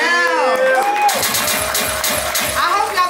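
A crowd at an EP release concert cheers and whoops, with shouted voices rising over a rhythmic pulse of bass-heavy music and clapping, loud and lively throughout.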